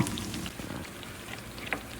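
Plantain slices for tostones fry in oil in a pan, giving a brief, soft crackling sizzle close by.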